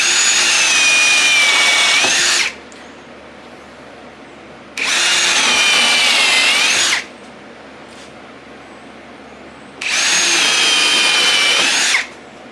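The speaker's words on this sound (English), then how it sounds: "So the pre-drilling and countersinking all is like we did earlier on the other smaller boards?" A power drill pre-drills and countersinks holes in a wooden 2x4 for a table saw sled. It runs in three loud, steady bursts of about two seconds each, with quiet pauses between them and no talking.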